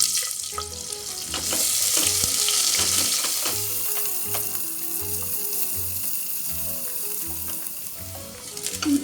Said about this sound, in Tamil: வெங்காயம் சேர்த்துடலாம்.